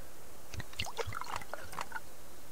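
Liquid pours and drips while berry water is made in the survival game Subsistence, with short splashy trickles and droplets over a faint steady background hiss.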